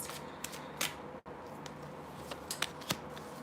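Tarot cards being shuffled and drawn during a reading, close quiet riffles and soft flicks of card stock in irregular bursts, with a brief dropout in the middle, no talking.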